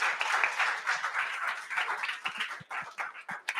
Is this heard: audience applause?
yes